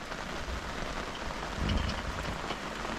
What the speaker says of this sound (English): there's a bit of rain happening out there